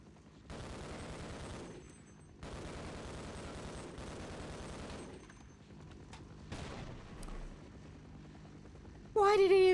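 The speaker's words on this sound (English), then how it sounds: "they just sit there and shoot me, and then I can't really do much but just shoot them" Gunfire from enemy soldiers in the video game Half-Life, rendered as long sustained automatic bursts with brief gaps between them, loud and close, followed by a short pause and a sharp rising electronic burst at the end.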